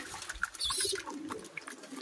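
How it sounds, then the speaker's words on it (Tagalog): Water splashes briefly into a pigeons' drinker, a short close-up gush with trickling and bubbling, over faint background sounds. "lalagyan na natin ng tubig yung kanilang painuman"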